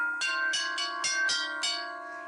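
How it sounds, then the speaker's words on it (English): Tubular bells struck with a metal striker ring out in about six quick, bright hits in an uneven rhythm. Each clear metallic tone overlaps the sustained ringing of the ones before. "trying out different strikers on these tubular bells"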